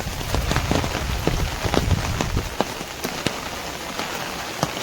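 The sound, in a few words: rain falling at Songadh Fort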